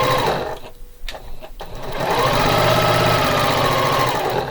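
A sewing machine stitches quilt pieces with a steady mechanical whir, stopping briefly near the start before running again at a constant even pace, close and loud.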